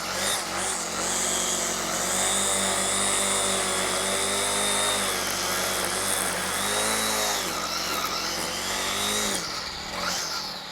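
Troy Bilt TB675-EC straight-shaft gas string trimmer cutting grass along a curb, its two-stroke engine buzzing loudly and continuously with slight pitch changes as the line bites.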